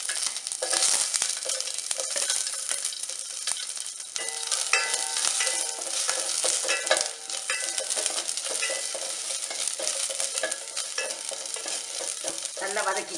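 Onions sautéing in oil for a Nanjil-style sambar, a constant crackling sizzle broken by scraping, clattering strokes of a spoon stirring the pan, close and continuous.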